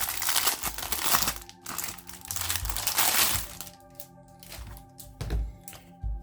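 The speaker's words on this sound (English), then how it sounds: "Let me open it so the sound of this wrapping doesn't disturb my voice." Plastic packaging around an EDC belt sheath organizer being torn open and handled: close, loud crinkling and crackling in irregular bursts with a few soft thunks, and no one speaking.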